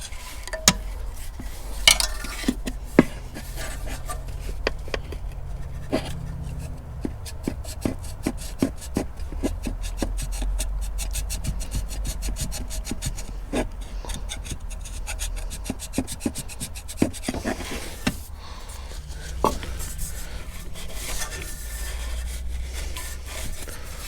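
A metal tool scrapes a bad pitted area on an oil cooler line from a Toyota 2GR-FE engine, making repeated close rasping strokes in irregular bursts over a low steady background hum.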